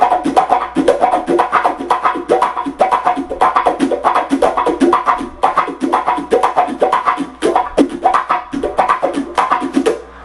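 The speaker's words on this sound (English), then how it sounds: "then something else that you could add is add a wah pedal" Muted funk guitar strumming through a wah pedal, with percussive scratchy sixteenth-note strokes in a tight, steady groove and the wah sweeping the tone throughout. Loud and close, with no talking.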